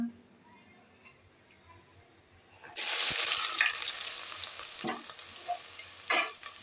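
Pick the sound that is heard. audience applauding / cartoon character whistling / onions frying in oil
onions frying in oil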